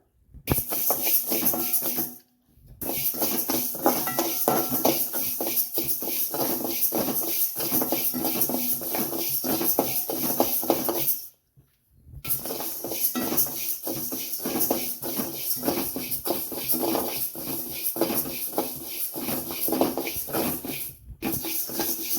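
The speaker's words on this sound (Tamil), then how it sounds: "ஒரு கடாய் ஹீட் ஆன உடனே நம்ம கருப்பு உளுந்து வந்து நல்லா வறுத்து எடுத்துக்கலாம்" Black urad dal being dry-roasted in a hot kadai, a steady rattling, hissing shuffle of grains that runs on continuously, broken by two brief silent gaps, with no talk.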